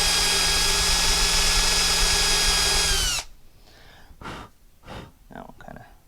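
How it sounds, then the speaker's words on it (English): A power drill whines loudly and steadily for about three seconds, drilling into a carburetor bolt on a Tao Tao/Coolster carburetor, then stops, leaving faint handling noises and breathing. "I'm just drilling enough to get my easy out in there."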